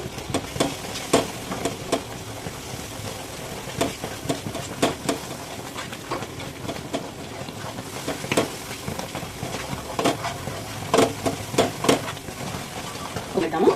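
A spoon scrapes and stirs continuously through thick Mysore pak batter of gram flour as ghee is poured in, with soft sizzling and repeated close clinks against the pan and a voice talking now and then.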